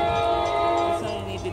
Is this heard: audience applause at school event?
no